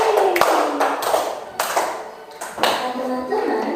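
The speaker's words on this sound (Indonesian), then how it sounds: "ayo Tepuk tangan." A few sharp hand claps spaced out between bursts of a voice speaking, close and fairly loud.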